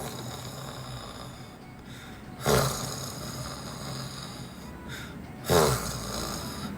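A voice imitates loud snoring with two heavy, rasping snores a few seconds apart, each a sharp rough burst that fades, over a steady background hum.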